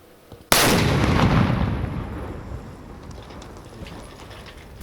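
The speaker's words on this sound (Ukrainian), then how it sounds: "Увага! Вибух!" After a moment of quiet, remotely detonated ordnance, set off with robotic equipment, booms out suddenly and rolls into a long, gradually fading rumble with scattered debris-like crackle.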